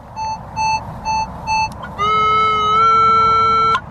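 Metal detector signal tone while hunting for coins: four short evenly spaced beeps, then a louder sustained steady tone, close and clear with no talking.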